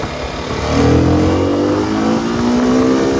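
A CFMoto 300SR motorcycle engine, freshly ECU-updated, revs up smoothly and holds a steady high-pitched drone, loud and close without any cut-out.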